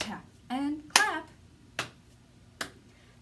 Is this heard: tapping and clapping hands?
yes